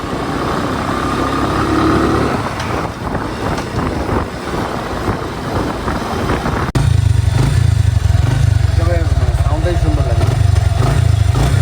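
An old motorcycle engine runs steadily and loudly, its rumble stepping up to a heavier, louder idle partway through, with voices talking over it in the background.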